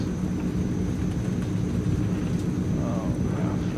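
A Transall C160 military cargo plane takes off in Microsoft Flight Simulator, its engines giving a steady, loud, low droning roar that holds constant throughout with no talking.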